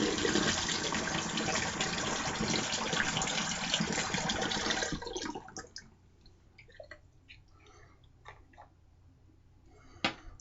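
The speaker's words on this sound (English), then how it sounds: "So let me wet my face." Water runs and splashes loudly for about five seconds as a face is wetted for a shave, then gives way to scattered small drips and splashes with a sharper splash near the end.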